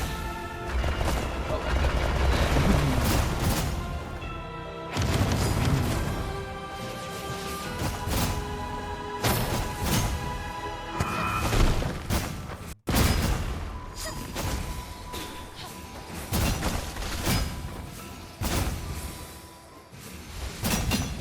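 Gunfire and jumping sounds in the Afterimage video game, with repeated bursts of shots and impacts over a tonal game score, loud throughout with a brief cut near the middle.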